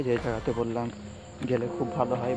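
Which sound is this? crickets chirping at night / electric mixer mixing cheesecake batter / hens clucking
crickets chirping at night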